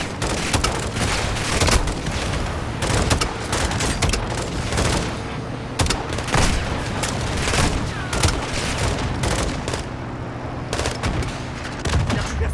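Heavy combat in Call of Duty: Modern Warfare 2 as vehicles are blown up: loud, near bursts of automatic gunfire mixed with booming explosions, dense and continuous throughout.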